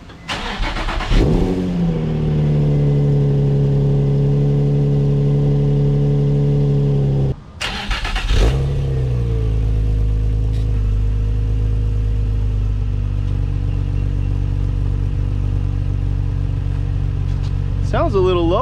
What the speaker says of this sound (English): I'm gonna get out, go and start the car and see what it sounds like